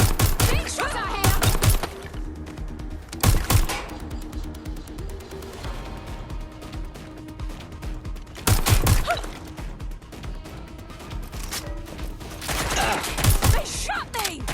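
Loud bursts of gunfire in Watch Dogs: Legion, with clusters of rapid shots separated by quieter stretches of game ambience and a faint voice.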